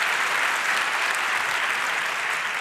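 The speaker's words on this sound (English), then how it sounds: "give her a huge round of applause for this year's" A conference hall audience at the 30c3 hacker congress gives a speaker a big round of applause, a dense, continuous wash of clapping at even loudness from start to finish, with no talking.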